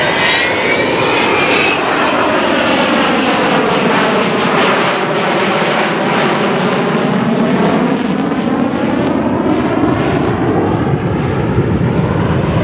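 The Avro Vulcan B2 XH558 jet bomber passes at the Dunsfold Wings & Wheels airshow in 2015, its engines producing a loud, continuous roar with a sweeping, phasing howl as it flies by.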